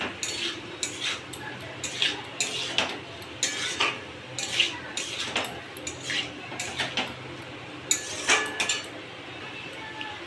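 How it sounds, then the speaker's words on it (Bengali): A utensil scrapes and clinks against a pan in an irregular rhythm while tangra fish curry with mustard is stirred and sautéed. The knocks are close and fairly loud, and a voice comes in at times. "এটাকে এবার আমি এভাবেই কষবো।"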